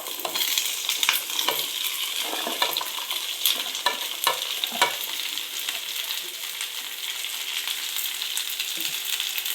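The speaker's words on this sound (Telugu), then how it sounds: "ఇగో పోపు ఇలా వేగిన తర్వాత అండి బెండకాయ ముక్కలు వేసుకోవాలి" Okra pieces fry in a tempering of green chili, ginger and curry leaves, a steady bright sizzle of hot oil broken by repeated clacks and scrapes of a spoon stirring the pan, close and with no talking.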